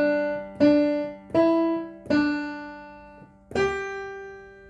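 Piano plays the fourth section of the Jingle Bells chorus from an easy tutorial: five clearly struck notes, each ringing with a sustained decay, at a steady moderate pace, close and alone with no talking.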